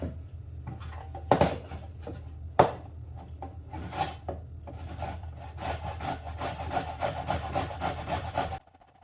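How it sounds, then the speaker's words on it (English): A courgette is grated by hand, making a close, rhythmic rasping scrape of repeated strokes against the grater, with a couple of sharper knocks early on. "So while I'm grating the courgette"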